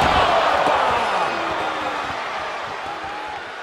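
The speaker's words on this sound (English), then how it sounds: "The sound of this crowd is deafening." A dense, roaring crowd in the Def Jam 2K22 video game fills the air, loud and continuous, fading slightly toward the end.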